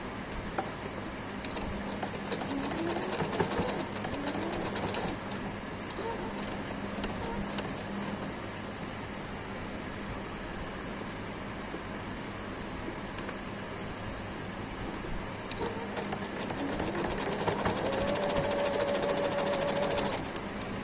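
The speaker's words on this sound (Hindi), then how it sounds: "अब मैं सबसे पहले साइड की सिलाइयाँ लगाऊंगी" A sewing machine stitches the side seams of a frock for a one-year-old girl, humming steadily and close with a rapid mechanical chatter, pausing and shifting speed now and then over about twenty seconds.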